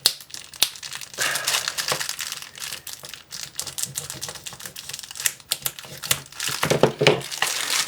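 Plastic GoPro mount packaging is torn and crinkled open close by, a busy run of crackling rips and rustles with sharp snaps and no talking.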